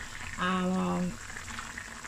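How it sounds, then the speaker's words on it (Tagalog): Beef brisket stew in caldereta style boiling in a pot, a steady bubbling hiss throughout, with a brief voice sounding over it in the middle. "Ayan, kulong-kulo na."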